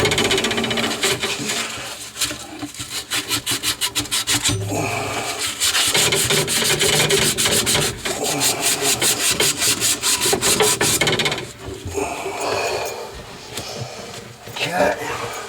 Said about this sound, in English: Sandpaper while it's still hot.